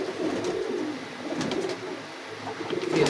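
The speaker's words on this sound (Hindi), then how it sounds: "बड़े ही हुस्न के बादशाह कबूतर हैं माशाल्लाह" Pigeons in a loft coo softly and repeatedly, a low murmuring purr rising and falling over steady background noise with no talk.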